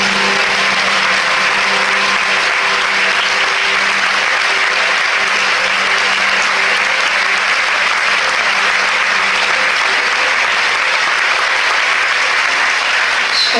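A festival ceremony audience gives actress Isabelle Carré loud, continuous applause, a dense unbroken roar of clapping with a faint steady tone underneath throughout.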